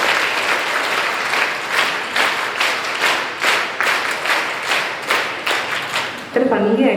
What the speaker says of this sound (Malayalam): നമുക്ക് നല്ല കയ്യടി കൊടുത്ത്